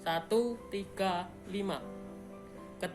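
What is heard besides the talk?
None of the usual background noises is heard.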